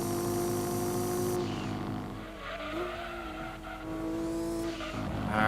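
Race car engine in Gran Turismo 2 holding a steady high drone, shifting pitch through gear changes, with tire squeal and skidding near the end, loud and continuous with no talk.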